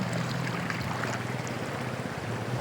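A stream at Brgy Jamog, Tigbauan, flowing in a steady, dense rush of water, close and continuous with no voices.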